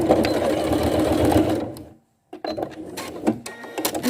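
A sewing machine runs in a fast, steady stitching burst while sewing bias binding onto a garment neckline, stops briefly, then gives a few short, clicking stitches and taps.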